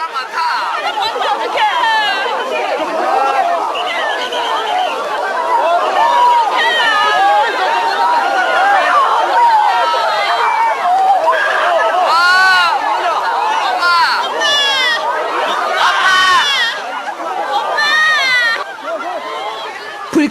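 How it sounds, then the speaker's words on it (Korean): Crowd of spectators escaping a wind-driven fire at an outdoor event, a dense, continuous mass of agitated voices and shouting, loud and close throughout, with no single voice standing out. "불길에 갇힌 사람들이 필사적으로 탈출합니다"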